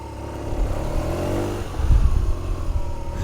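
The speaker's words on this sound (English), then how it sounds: "Listen to the motor." A motorcycle engine slows down with the clutch set, its mid-pitched drone rumbling and shifting as the bike decelerates, close and fairly loud with a rougher burst toward the end.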